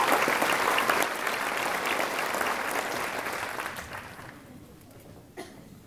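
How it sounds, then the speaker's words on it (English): A crowd at an evening youth scholarship program applauds the parents, a full burst of clapping that thins and fades away over several seconds, leaving a near-quiet room and a last stray clap. "Can we please give them another round of applause?"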